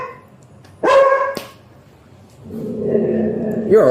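A dog lets out a loud sharp bark close by, followed by whimpering and low vocal noise, and a voice speaks near the start.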